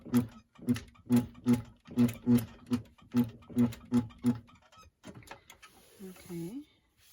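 A sewing machine back tacks the pocket corners on a women's blouse in about a dozen evenly spaced, close mechanical thumps. It goes quiet after that, and someone talks briefly at the end.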